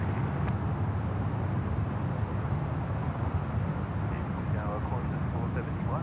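A Velocity aircraft takes off from runway 34 left at Sydney Airport in the evening, producing a steady, broad engine roar that holds at an even loudness throughout, with faint talk at moments.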